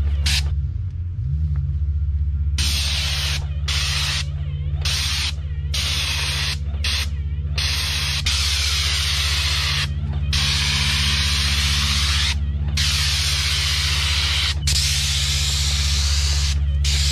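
A spray gun applies liquid rubber waterproofing coating to a retaining wall, a loud continuous hiss over a steady low compressor hum, with the spray cutting out briefly several times.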